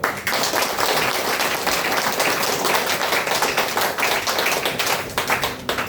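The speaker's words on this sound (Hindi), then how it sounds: "आप लोगों के लिए फिर से हम सभी लोगों मिलके ताली बजाएंगे" Audience at a DXN sharing event in Malangawa, Nepal applauding in a dense, sustained burst of many hands clapping, fairly loud and steady throughout.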